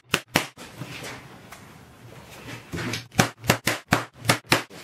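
Sharp hammer taps drive tacks into upholstery fabric during a BMC Wolseley Farina 24/80 car restoration, with a couple of blows, a quieter rustling pause, then a quick run of about nine close, rhythmic strikes.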